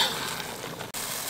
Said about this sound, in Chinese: 像锅边这些糊的地方，用铲子铲一下啊，不要让它糊掉